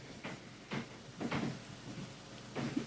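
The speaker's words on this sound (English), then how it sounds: "Is that them walking? Yeah, you can hear the creaking of the ceiling." A ceiling creaks faintly under people walking on the floor above, giving about five soft, spaced creaks and thuds at a slow walking pace against a quiet room.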